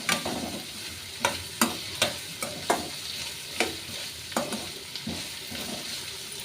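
Vegetables frying in hot oil in a pan for chilli chicken, a constant close sizzle punctuated by regular sharp clacks of a spatula stirring against the pan, with no talk.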